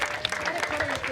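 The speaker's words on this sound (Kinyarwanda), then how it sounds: "Ubaha amashyi." Clapping breaks out for young children at a nursery school performance, a short burst of mixed hand claps under an adult voice.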